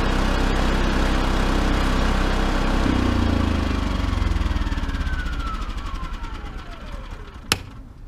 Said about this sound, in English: This Dewalt portable power station can run as many tools as this 3200 watt inverter generator. This generator is heavy, it's loud.